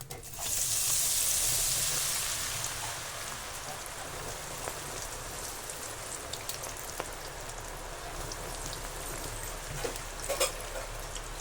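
Spoonfuls of pakoda batter drop into hot oil for crisp bakery-style fritters, a strong rush of sizzling at first that settles into a steady bubbling fry with occasional pops.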